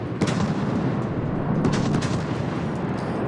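Battleship main guns firing in the naval video game World of Warships, heavy booming salvos with a deep rumbling roar that carries on for several seconds.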